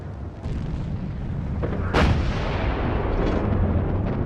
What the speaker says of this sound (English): Then there was another explosion,